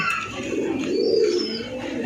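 Pigeons coo steadily in low, rolling throaty tones, close by, with faint chirps and no talking.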